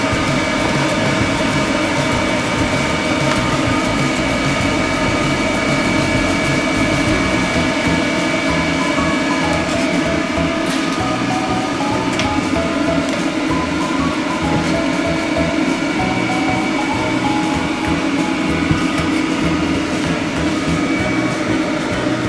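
A hair dryer roars in a steady, loud, continuous stream while a nine-month-old mixed-breed dog is blow-dried at a grooming salon, the airflow holding even throughout with small handling clicks and no voices heard.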